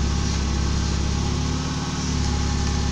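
A VW Gol Quadrado engine idles steadily up close, a continuous low rumble with a slightly uneven, lumpy beat and no talk over it.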